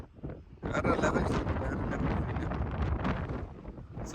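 Strong wind buffeting the microphone on the open deck of a cruise ship at sea between Belfast and Liverpool, a loud, continuous roaring rush that swells and gusts throughout.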